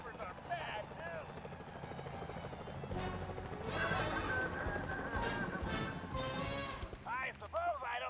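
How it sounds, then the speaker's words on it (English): Security helicopters in the video game Sly Cooper: Thieves in Time whir with a steady rotor chop under game music and effects, while voices talk over the noise. "Those security choppers are bad news."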